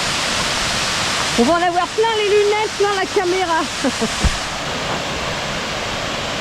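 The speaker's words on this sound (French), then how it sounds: "Nous voilà arrivés à la cascade. Enfin, une cascade digne de ce nom." A waterfall roars with a steady, dense rush throughout, loud and close, while someone speaks French over it for a few seconds.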